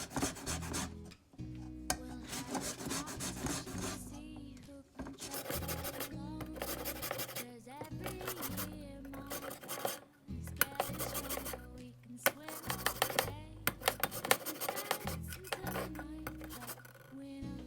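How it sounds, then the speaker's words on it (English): Lemon being zested with a hand zester into a small bowl in a home kitchen, producing close, repeated rasping scrapes in quick bursts with short pauses between strokes. "I'm going to be using this to zest the lemon, and I'm going to zest it right into my small bowl"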